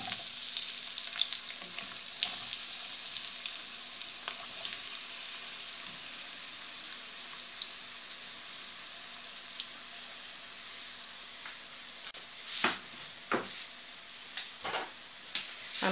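Chopped onions, about 400 grams, frying in hot oil in a pot, a steady soft crackling sizzle throughout with a few stirring knocks and scrapes near the end.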